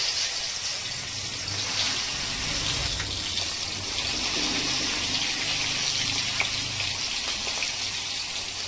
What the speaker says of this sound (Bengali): এবার এই মাছগুলো একে একে ভেজে নেব।